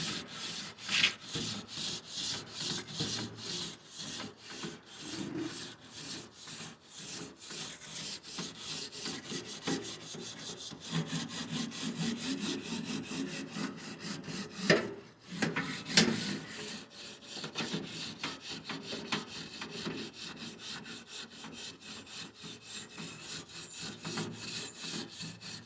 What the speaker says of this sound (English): So we're gonna basically scrape the grill.